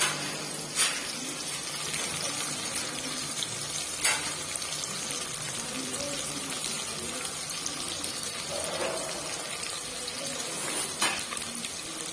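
Onions and green chili sautéing in oil for vegetable biryani give a steady, close sizzle, broken by occasional sharp clinks of a ladle against the pan.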